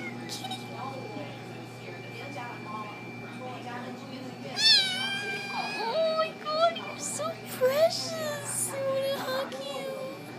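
A kitten meows repeatedly inside a pet store, high wavering cries coming in a cluster midway through over a steady hum of shop equipment, with people speaking softly nearby.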